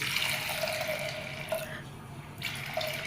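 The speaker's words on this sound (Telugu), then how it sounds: "ఇలా మూడు కప్పుల వాటర్ వేసుకొని" Water runs from a tap into a pressure cooker holding washed toor dal, a steady splashing stream with brief surges, close and fairly quiet.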